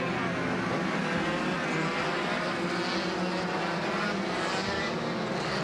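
A pack of racing karts at a European championship race on a smoky circuit surges away from a rolling start, a dense, loud buzz of many small engines sustained steadily throughout with no pauses.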